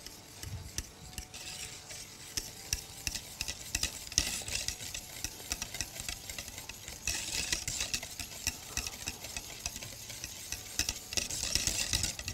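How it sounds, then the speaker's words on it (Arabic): Starch and sugar mixture for a white chocolate and mango cheesecake being stirred in a pot on the stove as it thickens, a faint continuous scraping and bubbling with no voices. "ونفضل نقلب لحد ما نحس ان هي تخنت."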